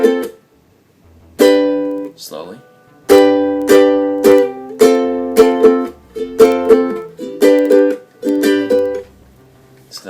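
Ukulele strummed through a song's chords, G moving to F, in bursts of down and up strokes with short pauses between groups, close and fairly loud; one brief spoken word sits among the strums.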